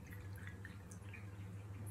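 Four ounces of orange juice pour into a copper cup over tequila for a cocktail: a brief, faint, close trickle and splash of liquid.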